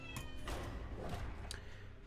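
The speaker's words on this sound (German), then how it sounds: "die Katze ist richtig am Weinen gerade so" A distressed house cat meows repeatedly indoors, a few short faint cries spaced through a quiet room with low background noise.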